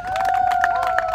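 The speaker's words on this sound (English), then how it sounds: "Let's clap for them." An outdoor audience at a farm gathering claps and cheers, a lively blend of hand claps and raised voices with a sustained high whistle-like tone running through, moderately loud and continuous.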